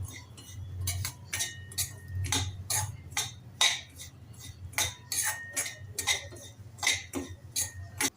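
Semolina (rava) dry-roasts over low to medium flame while a spoon scrapes and clinks against the pan in irregular sharp taps, fairly quiet with a low hum beneath.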